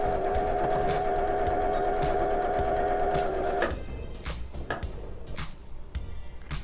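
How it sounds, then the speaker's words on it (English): A sewing machine stitches a quilting seam with a back stitch, a loud steady whir for about three and a half seconds that cuts off, followed by fabric handling and scattered clicks. "Couple of stitches, back stitch"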